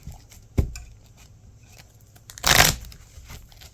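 A deck of game cards is shuffled in hand at a tabletop, a soft tap followed by a short, close, crisp riffling burst, with quiet room noise around it and no talking.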